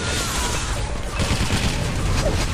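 Dense, continuous gunfire and rapid explosions from a multiplayer team deathmatch shooter game, loud and chaotic throughout, with a commentator-like voice faintly mixed in.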